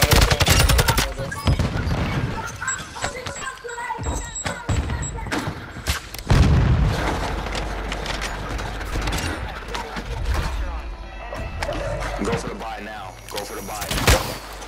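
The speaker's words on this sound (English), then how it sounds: "Requesting close air. Target marked. Copy that. Phoenix 2-3 is on station. Strike inbound." Call of Duty close air support strike with rapid bursts of gunfire and heavy booming explosions, loud and continuous, while players talk over the battle.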